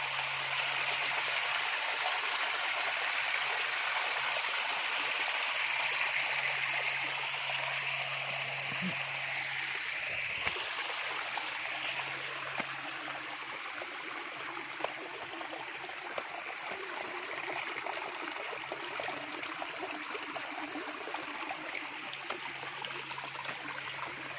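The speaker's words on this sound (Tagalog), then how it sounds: "yan ganda lakas ng agos" A clear stream runs with a strong current, a loud, constant rush and splash of water filling the whole stretch without letting up.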